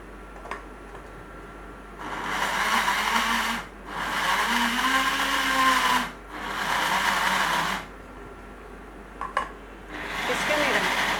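A kitchen blender grinds rice with yogurt in loud bursts of about two seconds each, separated by short pauses, with the motor pitch shifting as the mixture thickens.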